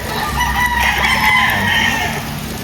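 A White Kelso gamefowl rooster crows loudly and close by, with hens clucking around it in a noisy farmyard.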